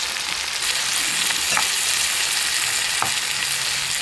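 A ground paste of lemongrass, ginger and garlic fries loudly with softened tomatoes in a pan for Malaysian fried chicken curry, a dense continuous sizzle with two brief spatula scrapes.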